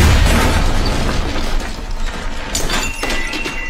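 A single loud burst from a grenade sound effect opens the clip and leaves a harsh, crackling tail that rumbles on before fading slightly, with nothing else heard.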